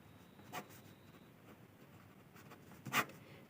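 A pen writing on paper during a maths lesson, faint and close, with a soft scratch near the start and a louder stroke near the end over quiet room tone.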